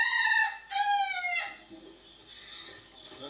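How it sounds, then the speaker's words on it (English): Cockerel giving a strange, strained crow, two close harmonic calls in quick succession that break off abruptly, followed by quieter farmyard background. "That's a strange cockerel crow, isn't it?"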